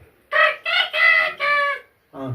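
A man imitates a rooster's cock-a-doodle-doo, four loud close syllables run together in a crowing rhythm, then a short pause and a final lower note.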